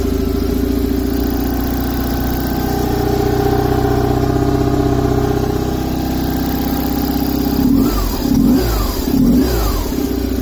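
A cold 2001 BMW R 850 R boxer-twin motorcycle engine runs close and loud at a steady idle, then gives three quick rising revs near the end.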